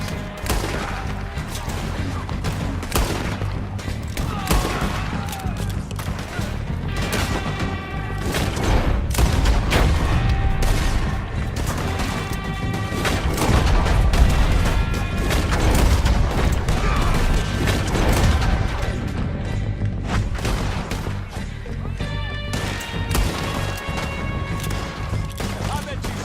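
Gunfire in the Red Dead Redemption 2 video game during a woodland shootout: repeated shots and heavy booms crackle throughout, layered over a steady musical score and occasional voices.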